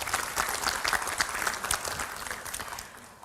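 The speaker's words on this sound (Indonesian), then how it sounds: "Boleh kita tepuk tangan untuk Jurnalis Day." Audience applause at a Journalist Day 2026 event, a dense steady burst of many hands clapping that holds for a few seconds and then begins to thin out.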